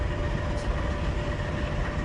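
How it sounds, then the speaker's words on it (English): Diesel locomotives idle loudly in a crowded rail yard in a train video game, a constant heavy rumble with a steady drone and no pauses or voices. "The diesels are screaming loud around here while they were idling"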